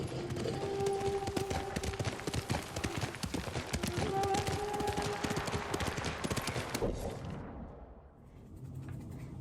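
Horse hooves clip-clop rapidly in the video game Ghost of Tsushima as a horse gallops over rough ground, a dense close rhythmic pounding under game sound effects, cutting off abruptly near the end with quieter ambience after.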